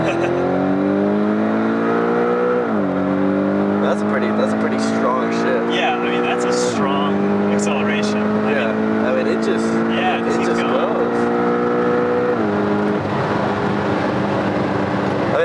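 Porsche GT4 RS engine revving hard through repeated upshifts under launch-control acceleration, heard from inside the cabin with a loud rising harmonic whine that drops at each gear change, while occupants talk over it.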